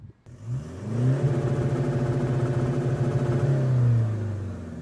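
A Toyota N80 Hilux fitted with a PSICO airbox fires up after a short pause, then holds a loud, steady, close-up engine rumble with a rising rev before settling back down, with no talking.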